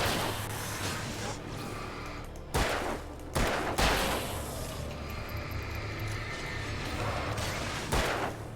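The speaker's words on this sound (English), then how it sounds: "The shooting in this game isn't bad." Gunfire in the video game Alan Wake comes as a few sharp, loud shots at irregular intervals over a constant rumbling game background, with no one talking over them.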